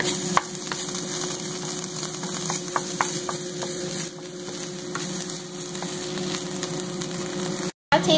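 A spoon stirring the marinade for Filipino pork bistek, with garlic added, makes scattered light clicks and scrapes over a steady background hum.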